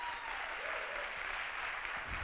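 A conference audience applauds steadily, a dense even wash of many hands clapping at close range, holding at a constant level throughout with no voices breaking through.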